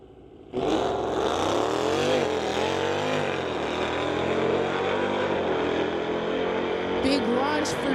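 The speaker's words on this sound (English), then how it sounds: "Big launch for Jared there, and the Corvette having some problems in the Lordco lane." A 2015 Dodge launches hard against a Corvette at a drag strip: a loud engine roar bursts in after a brief lull and holds as a sustained, revving howl, with a commentator talking over it.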